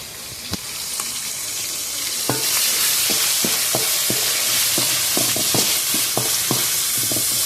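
Okra frying in a pan with onion, green chili and garlic gives a steady sizzle, broken by about a dozen close scraping stirs of a utensil against the pan.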